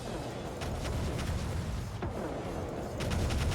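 Grenadier units firing in the strategy game Divinity: Dragon Commander, a dense, continuous rattle of battlefield gunfire with sharp crackling shots standing out over a steady roar, loud and unbroken throughout.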